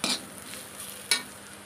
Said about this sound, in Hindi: अब सभी मसालों को अच्छी तरीके से भून लेंगे, धीमी आंच पे भूजेंगे